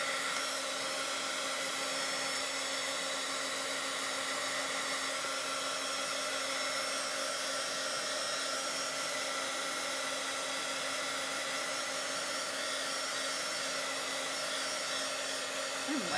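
Hair dryer blowing steadily on a papercraft altered CD sleeve, a constant close whirring hum with a fixed tonal whine held the whole time, alone and without talk.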